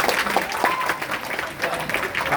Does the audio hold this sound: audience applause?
yes